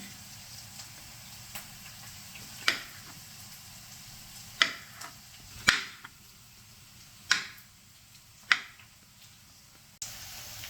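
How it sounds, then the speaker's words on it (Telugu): Mushrooms being cut into halves for mushroom biryani, a sparse series of sharp knife clicks and taps at irregular intervals over a quiet background. "ఇప్పుడు మష్రూమ్ని టూ టూ పీస్గా చేస్తున్నాము"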